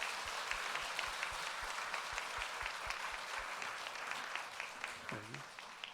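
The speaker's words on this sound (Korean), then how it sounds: "이 시간 박수로 맞이해 주시기 바랍니다." A church congregation applauds on Disability Sunday to welcome a visiting professor to the pulpit, a dense, steady wash of clapping from a large room that holds for the whole stretch, with a few low thumps and a brief voice near the end.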